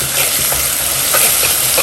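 Curry leaves, crushed cumin and garlic fry in hot oil for a fish curry, producing a loud, close, crackling sizzle with stirring scrapes and no talking.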